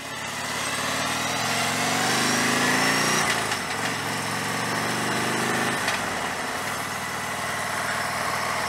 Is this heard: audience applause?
no